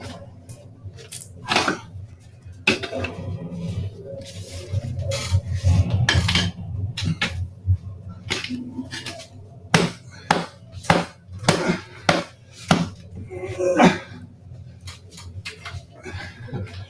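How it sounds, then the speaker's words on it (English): Repeated sharp metallic strikes ring out in an uneven rhythm, some clustered quickly together, with scraping and rubbing sounds between blows, as metal is cold-hammered into a shank in a jail. "Now I can just somehow hammer it down and cold smith it into the shank."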